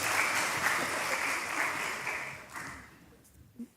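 A church congregation at an Easter Sunday service applauds the choir and musicians in a short burst of dense clapping that tapers off within a few seconds, with a faint voice near the end.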